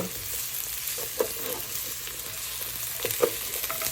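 Potatoes sizzle steadily as they fry in a pan, with a spoon scraping and stirring through them in a few louder clacks, heard close up with no talking.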